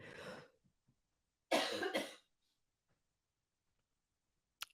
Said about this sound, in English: she won't stop coughing